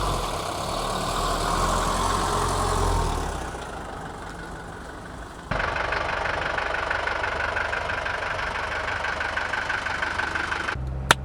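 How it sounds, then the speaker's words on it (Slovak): A fully restored 1976 Mercedes W123 240 D diesel car is heard from inside while driving. Its engine drones steadily with a low, rough diesel rumble, shifting in tone midway as the car changes pace. "toto je jazda na kompletne zrenovovanej 123"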